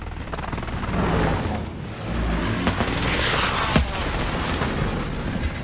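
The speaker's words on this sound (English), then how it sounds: "Alloy precision airstrike incoming." Precision airstrike explosions in an online shooter video game, a run of heavy, rumbling booms and blasts that roll together over about six seconds, loud and close.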